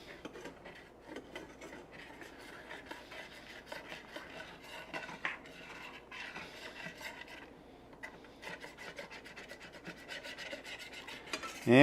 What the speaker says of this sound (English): So get all the fond scraped up.